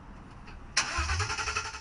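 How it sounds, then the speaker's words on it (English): A car with its catalytic converter missing starts up abruptly, then runs with a loud, raspy, unmuffled rumble close by. "This is what a vehicle sounds like when it's missing a catalytic converter."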